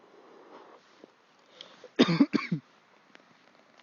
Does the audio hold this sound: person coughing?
yes